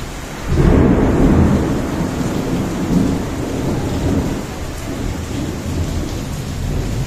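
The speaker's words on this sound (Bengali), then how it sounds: "ঝড় বৃষ্টি দুটোই হচ্ছে, হোক।" A thunderstorm with rain seen through an open window and door, a loud rushing downpour with a deep thunder rumble swelling early on, steady and close with no speech.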